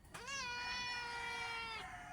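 A kitten left behind by its owner lets out one long, loud, drawn-out meow close by, rising then holding steady before cutting off.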